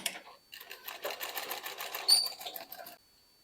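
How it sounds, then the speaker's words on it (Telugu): Sewing machine stitching a straight line through fabric in a beginner's stitching lesson, a close, rapid mechanical chatter running steadily for about two and a half seconds after a brief start, then stopping abruptly. "ఆ లైన్ మీదే మనం స్టిచ్ చేయాలి"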